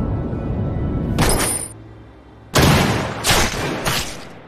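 Sniper gunfire in an action film: a few sharp, loud blasts with booming tails, separated by short gaps of quieter background.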